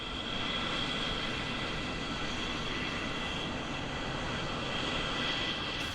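A Concorde supersonic airliner arrives, heard as a steady, loud, broadband engine roar that holds constant without breaks.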